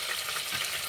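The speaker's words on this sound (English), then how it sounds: "I get all that flavors from the garlic into the oil. So let it saute first" Garlic sautéing in hot oil for Jamaican and West Indian cooking, giving a steady, close, bright sizzle that runs evenly throughout with no talking.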